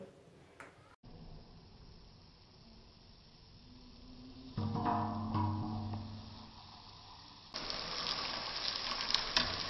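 Manchurian balls deep frying in oil as a steady sizzling hiss. It swells louder midway with stirring or shifting sounds, then rises again near the end, close and continuous, with no talk over it.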